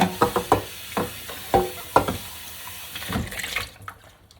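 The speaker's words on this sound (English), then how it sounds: "the lighting is in here where I'm doing the dishes" Tap water runs into a kitchen sink while dishes are washed, with splashes, clinks and knocks of crockery coming close and uneven before the flow eases and fades.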